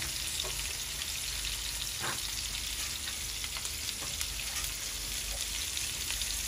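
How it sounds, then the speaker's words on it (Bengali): Pieces of rohu fish frying in hot oil, a steady close crackling sizzle with scattered sharper pops and a brief stirring scrape, no talking. "তেলে দেওয়া হয়ে গেছে, এখন অপেক্ষা হয়েছে ভাজি হয়ে যাওয়ার জন্য"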